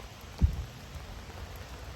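Rain picks up outdoors near Mount Diablo during a thunderstorm, a soft steady patter with one brief low thump early on, quiet and with no voices.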